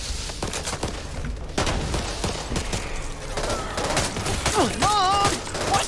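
Rapid bursts of automatic gunfire in the zombie shooter Back 4 Blood, continuous and fairly loud throughout, layered with other game effects and sweeping synth tones near the end.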